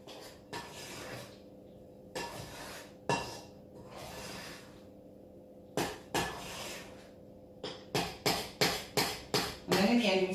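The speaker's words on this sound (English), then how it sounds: "Make sure you keep scraping down the sides of the bowl as well." A spatula scrapes around a mixing bowl of chocolate and beetroot muffin batter, repeated short scraping strokes that speed up toward the end, close and clear.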